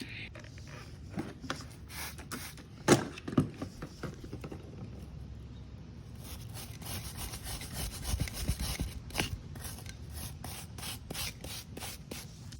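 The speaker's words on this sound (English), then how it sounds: "I got my soapy water, and I'm just going at it with a wire brush, and it's getting off some of the rust" A wire brush scrubs rust off the chain of a 2004 Flywing pit bike with soapy water, making quiet, close rasping strokes in an irregular back-and-forth rhythm, a few of them sharper and louder.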